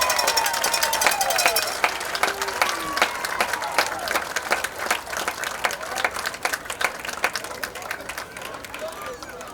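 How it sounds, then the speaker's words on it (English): A stadium crowd at a high school football game applauds and cheers for football alumni, a dense, steady wash of clapping with scattered sharp claps and voices mixed in, loud and sustained throughout. "Please stand and give them a round of applause"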